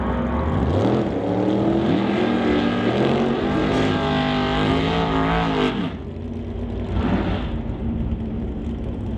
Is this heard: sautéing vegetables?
no